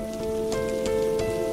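Rain falls steadily on a surface, a soft continuous patter with a few brief louder drops, under a faint sustained tonal hum.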